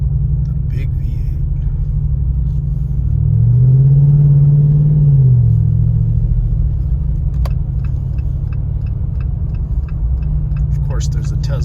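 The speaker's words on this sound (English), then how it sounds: "So let's enjoy the sounds of the Jeep." A 2024 Jeep Wrangler 392 with its big V8 driving along, a deep continuous rumble that swells briefly as the engine revs up, with faint ticking and cabin noises on top.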